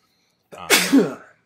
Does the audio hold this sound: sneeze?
yes